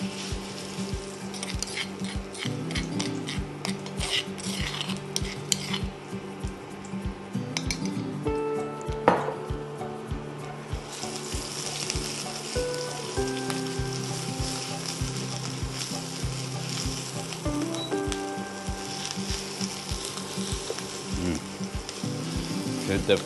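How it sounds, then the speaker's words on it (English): Red curry paste sizzling in a hot wok, with a steady frying hiss, frequent metal clinks and scrapes of a utensil stirring against the pan, and quiet talk now and then. "now we're ready to go in with the paste. It's gonna be a little bit of sizzle."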